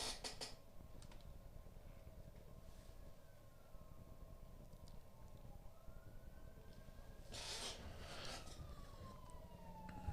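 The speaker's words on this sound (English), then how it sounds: "Got sirens coming." Emergency vehicle sirens passing outside, faint and distant, with rising and falling wails sweeping through a steady background hiss and swelling briefly louder near the end.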